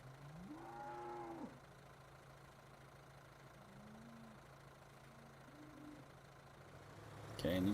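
Cattle in the Farming Simulator 2013 video game give a few low moos, one longer call followed by shorter ones, faint over a steady idling engine hum.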